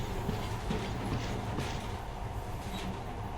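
A monorail train in the post-apocalyptic Metro tunnels of the game Metro Last Light rumbles steadily along with a low rolling drone, faint rhythmic clicks and rattles scattered through it.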